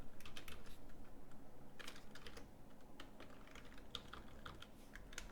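Someone types an equation on a computer keyboard into the Desmos graphing calculator: a quick, steady patter of close, light key clicks running without pause, no voices.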